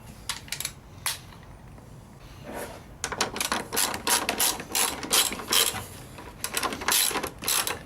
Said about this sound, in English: Grab our bolts. 12mm socket.